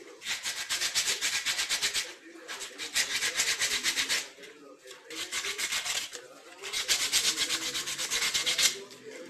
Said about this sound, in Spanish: Acá con una lija te voy a pasar más que nada los bordes.